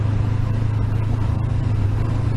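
Honda CB500X motorcycle riding a dirt road, with a steady low engine drone and wind rush that holds even and continuous throughout, no voices present.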